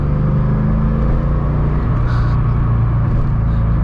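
A C4 Corvette engine held in third gear gives a loud, close, continuous rumble, its pitch shifting slightly about halfway through, with no talking.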